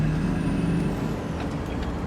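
Truck air brakes lock up on an outback road train as cattle wander onto the road, a loud sustained rumble and hiss with a falling whine, close and filling the whole moment without talk.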